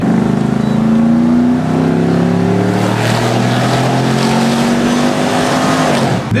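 Supercharged truck engine held at wide open throttle, a loud, sustained roaring drone with rising and falling pitch as the revs climb, close up and uninterrupted.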